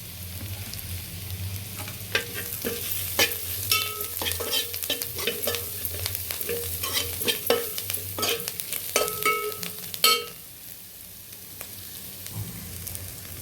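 Ginger and turmeric frying in a pan while egg noodles are being cooked, a steady sizzle broken by rapid scraping and clinking strokes of a spatula that stop abruptly near the end, close up with no talk.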